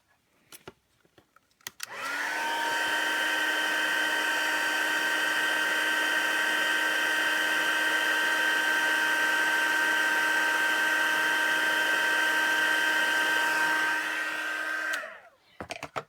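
A heat tool whirs steadily for about thirteen seconds, melting silver embossing powder on a sympathy card, a loud close blowing hum with a high whine that starts and stops abruptly.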